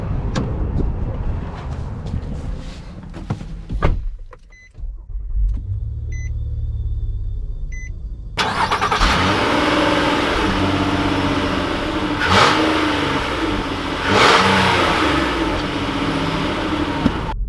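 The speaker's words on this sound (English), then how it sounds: "let's take it out and see how it drives." Engine of a 2020 Nissan Murano Platinum SUV, a low steady rumble at first, then a louder continuous road and engine drone as it drives off, heard from inside the cabin.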